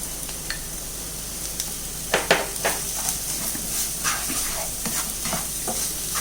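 Jaggery powder is stirred into a rava batter with a spoon, making several soft scraping and clacking strokes over a steady background hiss, and no one speaks.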